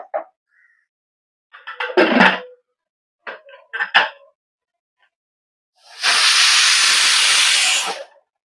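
A pressure cooker on a gas stove, cooking black-eyed peas, lets out one long, loud whistle of hissing steam lasting about two seconds after a few clinks and brief knocks.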